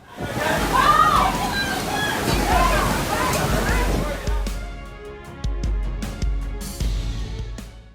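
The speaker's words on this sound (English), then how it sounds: "The massive waves surged inland, destroying numerous homes and causing severe flooding" Massive sea waves surge and slosh with heavy rushing floodwater after a Japan earthquake, a loud continuous roar broken by crashing surges, nearby and without talk.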